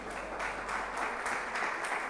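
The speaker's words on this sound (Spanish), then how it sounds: "Denle un fuerte aplauso al Señor." A church congregation applauds the Lord after a prayer, a dense, steady wash of clapping heard from a distance, fairly faint and even throughout with no break.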